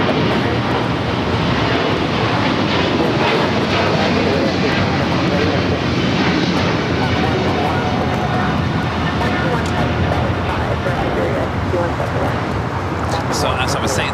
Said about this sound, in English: Oh, we got Austrian also taking off the special livery,